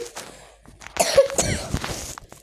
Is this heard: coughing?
yes